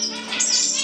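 Pet birds chirp close by in a home bird room, where Java sparrows and a family of diamond doves are kept, with bright, high tweets overlapping steadily through a short burst.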